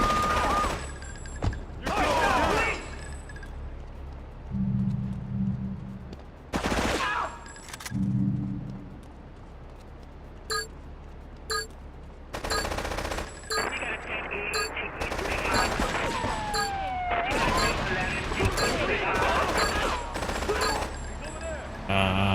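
Gunfire in GTA III, loud bursts of automatic shots and single cracks spread across the scene, broken by short pauses, with game voices and other sounds mixed in.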